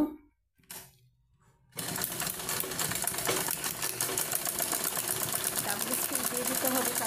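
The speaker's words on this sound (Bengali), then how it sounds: "উপরের অংশটাকে এভাবে ভেতরের দিকে ভাঁজ দিয়ে সেলাই করে নেব।" A sewing machine stitches a folded rice sack seam, starting after a short quiet moment and then running loud and continuous with a rapid rattling needle rhythm close by.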